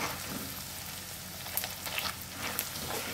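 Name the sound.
garlic puffed rice frying in a pan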